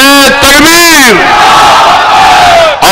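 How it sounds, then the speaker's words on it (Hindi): A large crowd at a political rally roars the slogan Nara-e-Takbir in unison, loud and close. Two swelling surges of many voices come in quick succession, then break off sharply. "मैं नारा लगाऊंगा, आप मेरे साथ नारा लगाइए कि नारे तकबीर"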